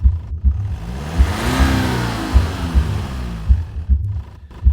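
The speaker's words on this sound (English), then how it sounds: "The revving sounds continued to come" A car engine revs up and down in a rising and falling sweep over a throbbing, pulsing idle, loud and close.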